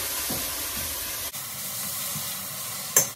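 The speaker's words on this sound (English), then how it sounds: "Now my temperature is at about a medium heat, medium to high heat. And we're just gonna saute these up." Onions sauté in a pan over medium to high heat for corn chowder, producing a constant, quiet hiss and sizzle with a few faint stirring knocks and one brief clatter near the end.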